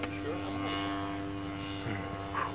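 A model tow plane with a twin-cylinder gasoline engine fitted with big canister mufflers drones steadily at an aerotow event, a continuous buzzing hum with a slight swell near the end.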